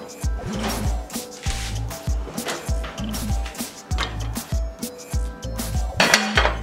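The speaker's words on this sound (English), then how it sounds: "what I'm going to do now is put the lid on, keep some of the moisture in there" A lid clinks against a pot of carnitas amid a run of repeated metallic knocks and clatters from cookware, close and fairly loud, with little talk.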